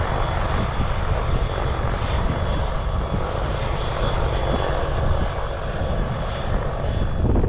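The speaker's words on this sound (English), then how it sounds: "The chopper just landed." A helicopter landing: steady, loud rotor and engine drone fills the whole stretch, a constant close roar with broadband rumble and no voices.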